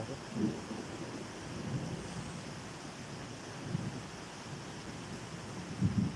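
Steady rain pours during a thunderstorm, with low rumbles of thunder swelling up several times through a faint, continuous hiss, the whole scene fairly quiet and distant.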